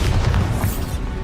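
A Bombarda spell in Hogwarts Legacy sets off a series of muffled booming blasts, several rolling bursts in quick succession that fade out toward the end, with no talking over them.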